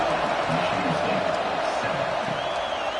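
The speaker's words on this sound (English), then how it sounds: "this crowd is buzzing after that last score" A large college football stadium crowd at UCLA at MSU hums with a steady, loud buzz after a touchdown. The broad roar carries across the full three seconds without letting up.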